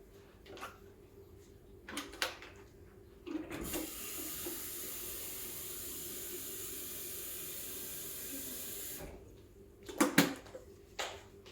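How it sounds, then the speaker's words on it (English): Water runs steadily from a tap for several seconds, filling the tank of a Breville Dual Boiler BES920 espresso machine, a smooth broadband rush between a few clunks and knocks before and after. "Oh, I think I need to fill it with some water."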